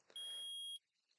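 A metal detector in the Ace Attorney video game gives one sustained, high electronic beep lasting about half a second. It stands alone against a quiet background.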